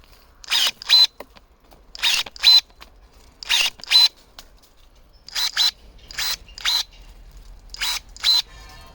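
Vitals Master AG 1805 garden pruning shears cut through a thick branch of about 30 mm, giving paired sharp mechanical clicks and snaps in a steady repeating rhythm, close and clear with no talk.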